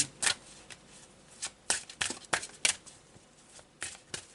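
Oracle cards being shuffled for a reading give soft, close riffling and slapping sounds in quick irregular bursts against a quiet background.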